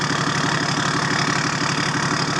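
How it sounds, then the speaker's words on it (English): A Toyota Land Cruiser 4.2 TD six-cylinder diesel with a straight exhaust idles with a deep, steady, rumbling roar, loud and close, with an even rapid pulse and no one talking. "A deep 6-cylinder roar."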